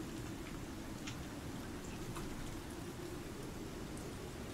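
Steady rain falling in the survival video game Icarus, a dense, even wash of droplets with a low rumbling bed, continuous and moderately loud throughout with no voices.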